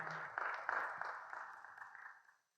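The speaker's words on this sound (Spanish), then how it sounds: "un aplauso al Señor, fuerte hermano" A church congregation applauds, a soft, distant wash of dense clapping that gradually fades out.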